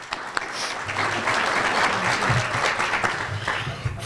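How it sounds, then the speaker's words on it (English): Warm audience applause at a chamber of commerce monthly luncheon in Pasco fills the room steadily for several seconds, a dense indoor clapping with no talk over it. "feel free to give them a warm round of applause"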